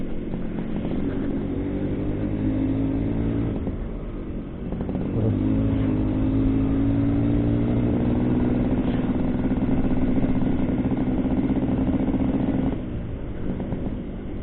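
A 1989 Suzuki A100 motorcycle engine runs steadily nearby, its tone rising and falling as the throttle is eased and opened, with no voices.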